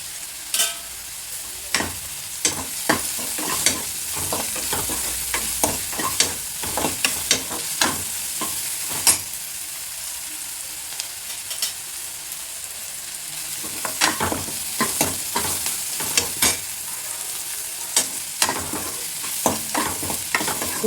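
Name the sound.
sautéing with turmeric powder in pan, stirring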